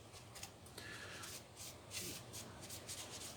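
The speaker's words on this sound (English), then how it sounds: "any highlights we want to just rub this powder onto" Soft, steady rubbing of metallic powder onto the blade of a model orc weapon, repeated strokes in a quiet close-up scrape with faint background noise.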